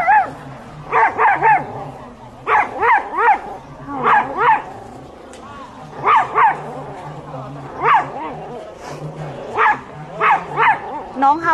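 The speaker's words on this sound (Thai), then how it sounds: "น้องเห่าแล้วเหรออ๋อเห็นหมาเลยเห่า" A dog barks repeatedly in short, close clusters of yips and bow-wows during a temple kathina merit-making ceremony, with people talking quietly underneath.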